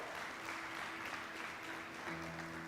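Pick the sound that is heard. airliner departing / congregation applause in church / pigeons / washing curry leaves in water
congregation applause in church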